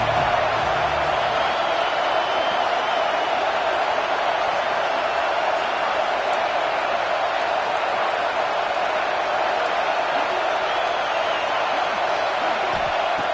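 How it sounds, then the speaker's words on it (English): A college football stadium crowd at Oklahoma versus USC sends up a continuous, even roar from far off, with no distinct claps or shouts breaking through. "the crowd coming to life here trying to help this defense down in the red zone"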